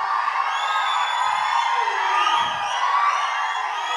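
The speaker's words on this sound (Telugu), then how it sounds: "మీ క్లాప్స్, మీ సౌండ్." Fans in a crowd at a film pre-release event cheer, whoop and whistle in a continuous dense roar that stays loud throughout, with no clear speech on top.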